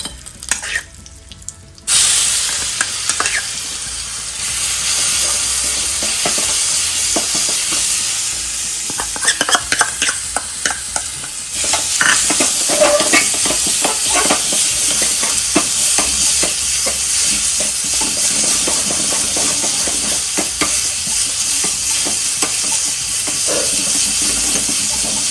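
Curry leaves and village-style turmeric frying in a pan, with a loud steady sizzle and hiss throughout and irregular scrape-and-stir strokes. The frying sound bursts up sharply near the start and swells again about halfway through.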